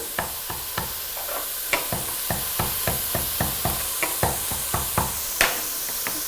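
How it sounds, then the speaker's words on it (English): Ingredients sizzle in a soup pot with carrot and onion while a spoon knocks rhythmically against the pot, with steady frying hiss underneath. "I'm gonna put this in the pot with the carrot and onion."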